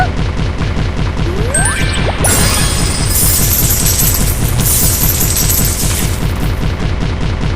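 Cannons fire in a fish-shooting video game, a loud rapid rhythmic stream of repeated blasts running the whole time, with sweeping chimes and bright sparkly game effects layered over it.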